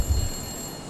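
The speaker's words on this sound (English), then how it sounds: "The phone rings in the middle of the night." A short electronic telephone ring in a video game, a single brief burst with a faint high tone, fairly quiet, no voices.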